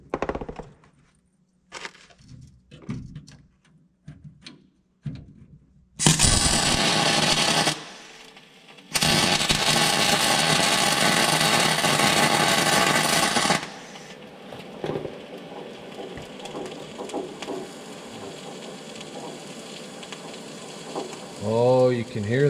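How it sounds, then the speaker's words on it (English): A welder on a wrecker tow truck crackles and sizzles in two loud, continuous bursts lasting a few seconds each, with a short gap between them and quieter clicks and handling noises before and after. "Fire up the welder here."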